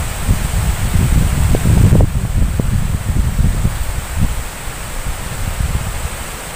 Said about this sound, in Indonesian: Iki anginnya. Suarane gue ngantek doyong-doyong kok.